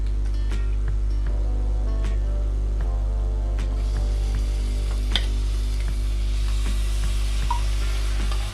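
A quarter kilo of mutton sizzling in hot oil with ginger garlic paste for a hotel-style mutton curry, a steady frying hiss over a constant low hum, with scattered small pops and stirring clicks.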